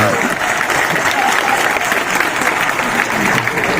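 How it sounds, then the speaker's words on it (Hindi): Loud, sustained crowd applause at a Hindu Janajagruti rally and march in Alandi, dense clapping filling the whole stretch without a break. "आप ताली क्यों पीट रहे हो मेरे भाई?"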